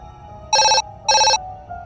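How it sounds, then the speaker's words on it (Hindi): Two short electronic telephone rings, evenly spaced with a pause between, loud and close, like a landline phone ringing in a quiet room. "तभी लैंडलाइन पर कॉल आई।"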